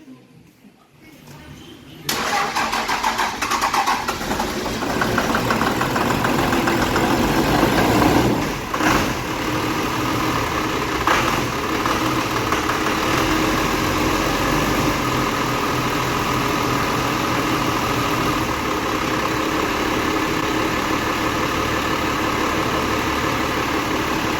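A 12-valve Cummins diesel in a dually truck with a ported head fires up after a short quiet moment and settles into a steady, loud idle. Its low rumble runs continuously for over twenty seconds with no voices.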